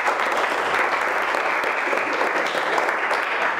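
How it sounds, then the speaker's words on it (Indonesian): A classroom of vocational school students claps for their classmates, a dense, even burst of applause lasting a few seconds at moderate distance. "Tepuk tangan untuk teman kalian."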